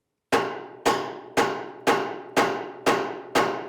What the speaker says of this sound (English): And again, more hammer action.